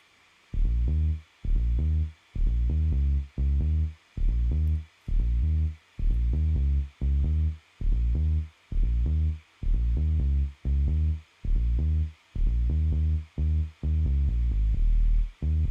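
A bass line plays choppy, bouncing patterns of short low notes in repeating groups, loud and clear, with no talking over it.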